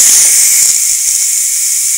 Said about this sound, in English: when you open the valve and the steam comes out, you don't burn your hand